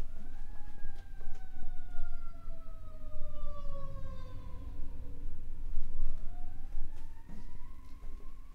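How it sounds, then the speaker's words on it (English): A wailing siren rises and falls in long sweeping tones, fairly close, with a second siren overlapping against steady traffic rumble. "make sure that the sirens are blocked out as much as possible"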